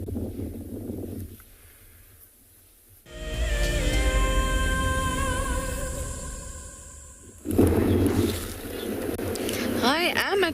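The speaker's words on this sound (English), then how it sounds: "The wind is really, really picked up and I'm sure you can hear it." Strong wind at a watering hole on a safari reserve roars and buffets the microphone in gusts, with a steady tonal hum in the middle stretch and a brief high chirping near the end.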